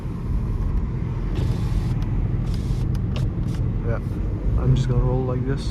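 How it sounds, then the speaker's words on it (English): A 1-liter turbocharged 10th-gen Honda Civic driving with the window down, steady low engine and road rumble close by, with someone talking over it near the end. "so y'all can hear maybe the turbo. It's a 1 liter 10th Gen Honda Civic"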